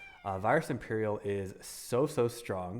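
A house cat meows loudly and repeatedly close to the microphone, several drawn-out whining calls overlapping with a person talking.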